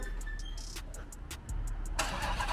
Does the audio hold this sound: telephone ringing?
no